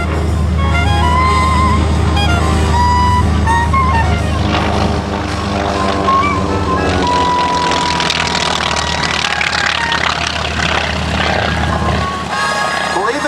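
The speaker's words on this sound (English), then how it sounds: "One beast of a airplane, fast and noisy." A military trainer airplane, a fast, noisy replacement for the T-6, flies past at an airshow with a loud, steady engine roar that swells and shifts in pitch throughout, under a commentator's talk.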